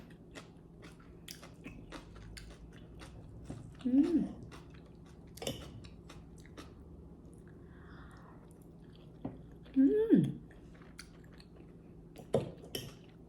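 Close, soft chewing of ribs and chicken with mouth noises and a couple of brief hums of appreciation in between.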